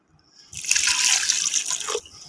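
Water is poured into a pot of cooking beef liver (kaleji), a bright, steady splashing pour lasting about a second and a half before tapering off.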